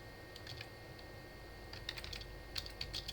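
Keys clack on a computer keyboard in short uneven bursts, close but soft, with small pauses between clusters of taps over a quiet room hum.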